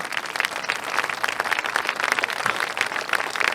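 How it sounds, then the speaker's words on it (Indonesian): A small group claps steadily, a dense, even patter of hands that carries on for a few seconds without anyone speaking. "Tepuk tangan, tepuk tangan."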